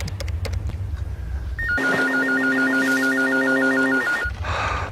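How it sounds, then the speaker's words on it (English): A telephone rings with a loud electronic warbling trill lasting about two and a half seconds, standing alone between stretches of dull background noise. "there goes my phone"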